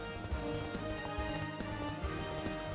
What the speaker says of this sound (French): Eh ma chère Simone, y'a un cheval qui s'est arrêté pour manger des carottes.